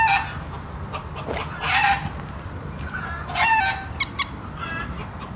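Chickens cluck and a rooster calls nearby, several birds vocalizing in irregular bursts over a quiet outdoor background in a Netherlands park.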